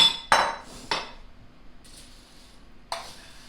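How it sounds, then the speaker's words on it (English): Pretzel snack mix being stirred in a pan: a few separate clinks and scrapes of a utensil against the pan, close and fairly loud, with quiet gaps between them and no talking. "I'll just kind of mix the pretzels throughout"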